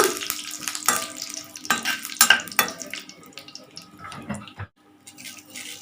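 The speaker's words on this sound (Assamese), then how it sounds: "শুকান জলকীয়া দি দিছোঁ এতিয়া মই অকণমান দুটা ভাজিম" Dried chillies sizzle and clatter irregularly as they are stirred in a hot pan, with scraping bursts that fade toward the end.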